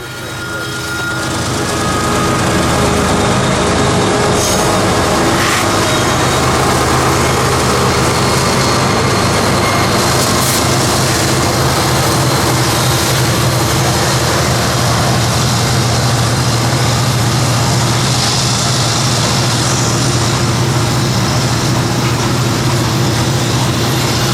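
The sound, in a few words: freight train 206 with crushed limestone passing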